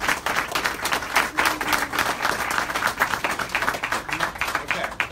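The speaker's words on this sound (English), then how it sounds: "please join me in giving a big round of applause to these guys" A crowd applauds steadily, a dense wash of many hands clapping at a fairly even level for several seconds, with no voices standing out.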